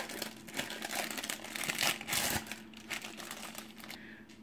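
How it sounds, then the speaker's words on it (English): Plastic cheese packaging is torn and crinkled open in a kitchen while ground-meat dishes are prepared, giving a busy run of close, scratchy crackling bursts that thin out toward the end. "Then we're going to open the cheese."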